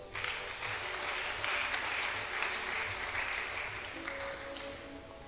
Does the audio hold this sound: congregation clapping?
yes